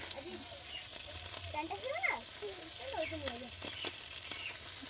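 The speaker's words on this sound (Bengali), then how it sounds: "ভাজা হয়ে যাচ্ছে যত সময় যাচ্ছে তত কিন্তু একটু সময় লাগে ভাজতে" Neem flowers fry in hot oil in a pan with a steady close sizzle and occasional stirring scrapes, while someone talks over the cooking.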